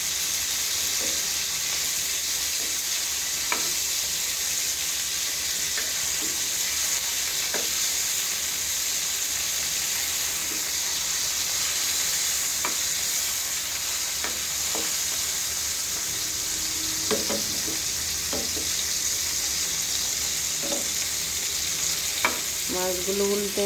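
Hilsa fish pieces sizzle in hot oil and are flipped in the pan, a steady close crackle broken by scraping clicks and brief bursts as the fish turn.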